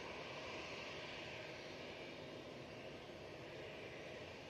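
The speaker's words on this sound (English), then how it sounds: "The Qatar that's just departed." A Qatar Airways jet departs Manchester Airport, its engines a steady, distant, broadband roar that holds level and faint throughout with no voices.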